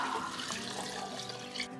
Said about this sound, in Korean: 육수도 넣어주세요.